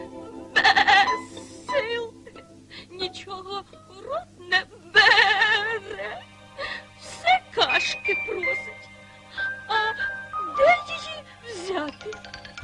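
A voice imitates sheep bleating with wavering, quavering cries, repeated several times in close succession, mixed with expressive speech-like calls over a steady low hum.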